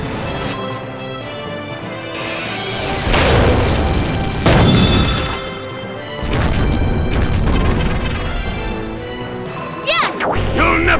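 Heavy crashing impacts and booms of a finishing attack in the beetle-battle game Mushiking VI with a golden stag beetle, loud bursts layered under game music and excited voices.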